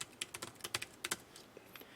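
Quick, irregular keystrokes on a computer keyboard, a dozen or so light clicks in uneven bursts, faint and close, with no talking.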